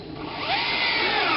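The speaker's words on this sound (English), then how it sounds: "I'll actually drill a 3rd hole and use a 3rd screw" A power drill bores a hole into a kestrel nestbox pole mount, a close, loud, steady whine that rises slightly in pitch as the bit bites in.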